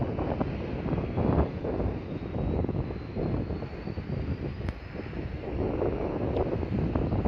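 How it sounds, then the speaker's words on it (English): Blustery wind buffets the microphone at Aberdeen International Airport, a loud continuous rumbling roar with gusty surges throughout and no voices. "from a blustery Aberdeen International Airport"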